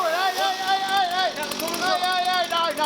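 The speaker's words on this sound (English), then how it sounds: "Okay, so we got rid of the chainsaw." A chainsaw runs close and loud in an indoor workspace during a caravan window glass repair, its engine note wavering steadily through the whole stretch.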